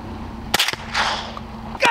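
A .22 rifle fires at a nutria outdoors in Louisiana marsh grass, one sharp close crack followed by a quick second snap and rustling, then another crisp report at the end.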